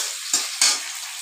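Onion and chili sizzle and fry in a pan with a steady, bright hiss, swelling twice as they are stirred. No one speaks.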